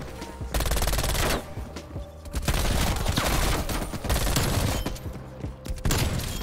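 Rapid bursts of video game shooter gunfire crackle and pop in dense volleys, loud and near, with brief gaps between clusters of shots.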